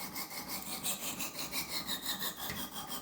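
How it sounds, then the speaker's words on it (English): A brand-new 600-grit sharpening stone lightly scrubbing a soft knife blade, giving rhythmic back-and-forth gritty rasping strokes, steady and close with no talk. "And then I'm just going to take this stone and lightly scrub the knife."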